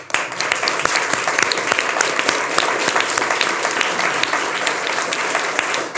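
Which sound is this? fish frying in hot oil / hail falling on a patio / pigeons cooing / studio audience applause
studio audience applause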